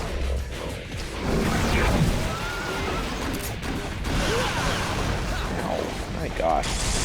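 A horse whinnies repeatedly in Devil May Cry 3, its neighs cutting through a busy game soundtrack of crashes and impacts, with someone talking over the action.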